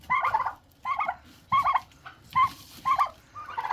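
Turkeys gobble in a steady series of warbling calls, six or so bursts evenly spaced, close and clear against a faint rustling background.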